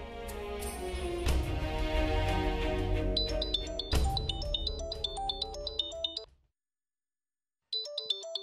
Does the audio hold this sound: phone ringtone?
yes